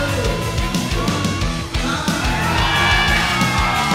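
A loud crowd at the 2011 CrossFit Games Latin America Regional cheers, yells and whoops continuously, a dense roar of voices close and sustained.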